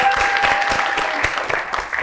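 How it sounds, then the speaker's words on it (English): A quiz-show audience claps in steady, dense applause for a winning team, close and fairly loud throughout the short burst. "Give them a round of applause."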